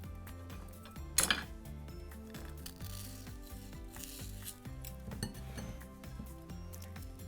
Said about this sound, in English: just start scooping some of this sugar out